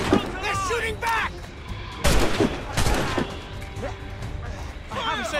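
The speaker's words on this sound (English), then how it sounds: "They're shooting back!" Gunfire in the video game Assassin's Creed Rogue, with sharp bursts of shots and crashing impacts under shouting voices during a naval battle, the loudest blasts landing around the middle.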